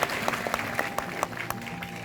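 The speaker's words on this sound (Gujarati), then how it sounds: "જોરદાર તાળી વગાડીએ." Audience applause at a Republic Day gathering, a moderate crowd clapping with some distinct individual claps standing out in a fairly even patter.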